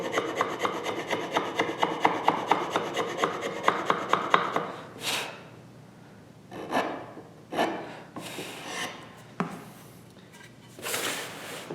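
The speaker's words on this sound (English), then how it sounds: "Get some of that corner out with the chisel." A chisel pares wood from the neck pocket of a Gibson Les Paul style guitar body, first as a rapid run of rhythmic scraping strokes, then as several slower, separate rasping shaves, close and clear.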